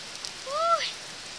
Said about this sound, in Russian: Короче, тут просто ливень.